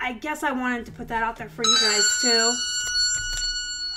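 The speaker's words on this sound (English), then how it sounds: "Sorry about my loud phone." A loud phone rings with a steady electronic tone that cuts in partway through and keeps sounding, first over a man's speech and then on its own.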